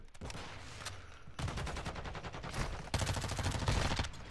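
Lachmann submachine gun firing in a first-person shooter, rapid bursts of automatic fire in three long strings separated by short gaps, loud and close.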